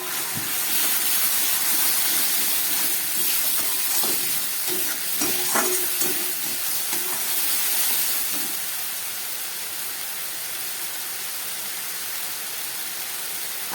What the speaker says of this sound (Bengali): এর মধ্যে আমি দিয়ে দেবো পেস্ট করে রাখা মশলাটা।